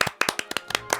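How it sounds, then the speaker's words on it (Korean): A short burst of a few people clapping in a radio studio, about a second of quick, close, uneven claps with no voices. "박수"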